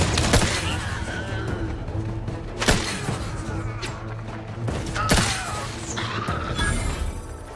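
Gunfire in The Outer Worlds 2 video game: several sharp shots and impact bursts crack out irregularly over game ambience.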